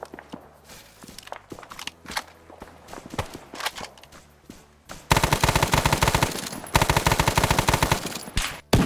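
Machine gun fire in a video game battle, first as scattered distant bursts and footsteps, then a loud, sustained rapid-fire stream of close automatic shots that pauses briefly and resumes.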